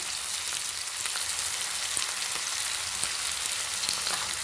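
Boiled potatoes fry in oil over a low gas flame, giving a steady, close sizzle that holds evenly throughout with faint crackles and no voices.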